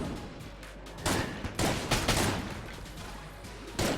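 In the video game Enter the Gungeon, a shotgun fires in rapid, dense bursts of blasts, loud and continuous with short gaps between volleys.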